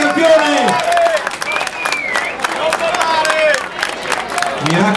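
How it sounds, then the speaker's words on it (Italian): A crowd at the Mugello circuit podium applauds and cheers loudly and continuously, with dense clapping and shouts throughout, close and full. "Per intanto facciamo ancora un applauso a Valentino Rossi, il nostro campione."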